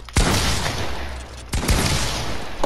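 Loud, close gunshots ring out in Fortnite, two sharp cracks each followed by a noisy ringing tail, with faint chatter of further shots between them.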